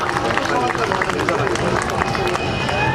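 A crowd at an Ambedkar Jayanti programme claps steadily to welcome a speaker named Jain. The dense, continuous applause mixes with crowd murmur and voices throughout.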